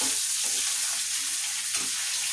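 Chicken fried in a pan and stirred, a steady loud sizzle broken by a few soft scraping strokes of the spoon.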